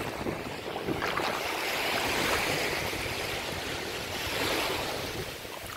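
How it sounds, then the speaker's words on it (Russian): Surf on a soft sandy beach at night in Punta Cana, Dominican Republic, washes in as a continuous rushing roar that swells and eases, mixed with some wind noise, with no voices. "Волна проходит, волна прям с ног сбивает."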